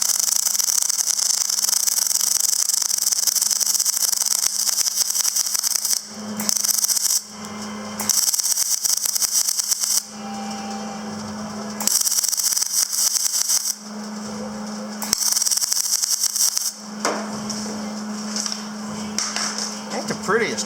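Aluminum being welded on a Mack CX613 tank with a spool-fed welder, a loud steady crackling buzz running in long bursts with brief pauses between, a low hum underneath.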